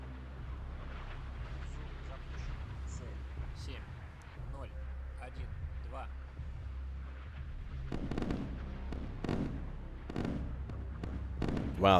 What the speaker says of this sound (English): Some of the first missiles now coming at us.